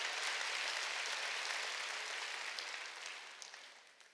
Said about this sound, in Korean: 박수로 하나님께 영광 돌리고